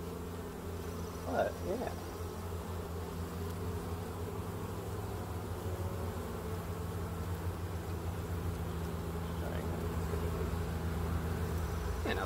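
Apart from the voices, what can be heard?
honey bees buzzing during hive inspection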